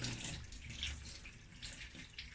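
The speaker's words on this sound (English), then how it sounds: "So I'm just going to rinse this properly." Seafood bait being rinsed under running tap water in a sink, a steady broadband splashing hiss with slight surges, fairly quiet and continuous with no talk.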